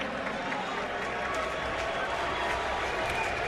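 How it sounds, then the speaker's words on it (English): Stadium crowd at an XFL football game between the St. Louis Battlehawks and San Antonio Brahmas, a steady roaring wash of cheering with scattered claps, loud and constant throughout with no break. "You can hear this crowd."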